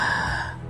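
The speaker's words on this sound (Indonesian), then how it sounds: "Tarikan napas orang tua itu terdengar berat tersengal." An old man's heavy, labored gasping breath: a single drawn-out gasp, close and fairly loud, trailing off softly with no other sound.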